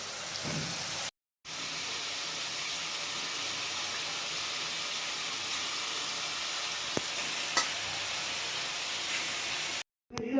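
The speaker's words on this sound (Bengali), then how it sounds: "মা রান্না করছে আর আমি একটু নাড়তে চলে এলাম।" Fish curry sizzles and hisses steadily in a hot pan in a home kitchen, with a couple of faint scrapes as it gets stirred and a brief silent gap near each end.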